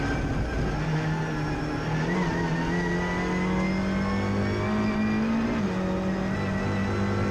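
Race cars run through Knickerbrook at Oulton Park, engines revving loudly and continuously as a group passes, with pitch rising and shifting between gears, close and without talk.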